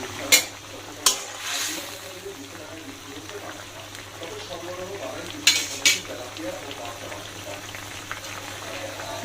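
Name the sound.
fish being added and cooked in a pan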